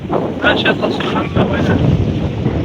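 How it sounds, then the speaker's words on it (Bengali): Gusty wind buffets the microphone with a loud, rumbling roar, and a voice speaks through it. "এখন প্রচুর বাতাস হচ্ছে"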